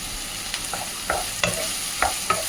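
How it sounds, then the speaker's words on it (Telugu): Onions and green chilies frying in a pan for mutton liver curry, a loud close hiss with several sharp stirring scrapes spaced about half a second apart. "ఉల్లిపాయ, పచ్చిమిరపకాయ వేసాను. ఇది కొంచెం వేగనిద్దాం."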